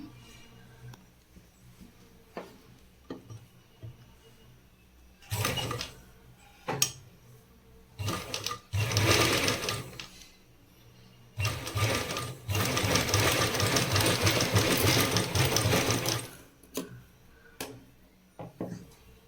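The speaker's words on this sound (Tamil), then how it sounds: "ஒரு தையல் தான் நான் ஒட்டியிருக்கேன்." A sewing machine stitches a cup dart on the front panel of a blouse, running in several bursts of varying length with pauses and light handling clicks between them, the longest run lasting about four seconds.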